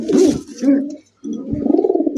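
Racing pigeons, a breeding pair with eggs, coo in low, throaty rolling phrases close by, with a short pause partway through.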